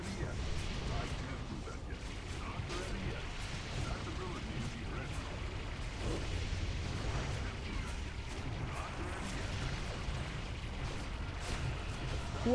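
Cannon barrage explosions from the World of Warcraft Ulduar raid, a dense, continuous rumble of booming blasts filling the whole stretch at steady loudness, with game voice cues mixed in.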